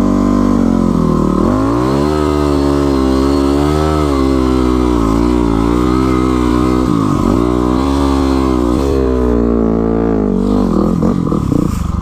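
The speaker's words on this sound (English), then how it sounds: "this looks like a good place to do some burnouts." Yamaha WR250R supermoto motorcycle doing burnouts on a wet road, its engine revving loud and close in a steady, wavering drone that rises and falls throughout.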